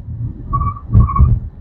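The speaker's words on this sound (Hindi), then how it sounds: "ओके व्हील स्पिनिंग की आवाज आई ना तो व्हील्स इसके लिटरली स्पिन हो रहे थे।" A BYD Atto 3 electric SUV launched hard in sport mode, its wheels spinning: a short burst of low tyre rumble with a brief whine and scrubbing, loud and close, swelling twice over under two seconds.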